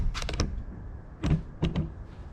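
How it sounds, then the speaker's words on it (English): A Toyota 80 Series LandCruiser door shuts close by: a quick cluster of rattling mechanical clicks, then a pause and three sharper latch clunks, with no voices. "We'll close the door."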